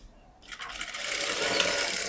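A sewing machine stitching a blouse starts up after a brief quiet moment, then runs in a steady fast whir that keeps going.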